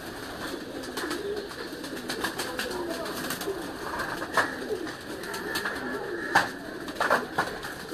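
Pigeons cooing softly on a Lahore rooftop loft, repeated low murmuring coos layered over a steady background hum with a few sharper chirps.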